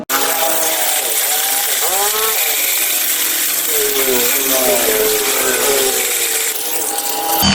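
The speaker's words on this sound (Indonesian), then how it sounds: "bisa pakai amplas yang kasar, dililitkan di besi, kemudian pakai bor gengs" Power drill spinning coarse sandpaper wrapped on a metal rod, grinding a plastic headlight holder on a Honda BeAT scooter; a loud continuous whine that rises and falls under load as a voice talks over it.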